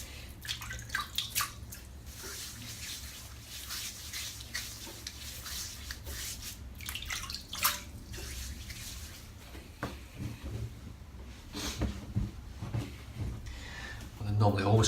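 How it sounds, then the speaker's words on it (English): Cold water splashing and rubbing on a head before a shave, with close, intermittent wet splashes and drips alongside soft hand-rubbing sounds, and someone speaking at times. "Just going to wet my head a little bit."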